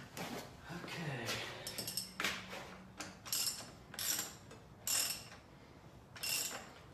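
An axle nut on a heavy eBike wheel with torque plates is snugged up with a wrench, producing a string of close metallic ratcheting clicks and scrapes in irregular bursts, quiet and tinny, with a brief low hum in between.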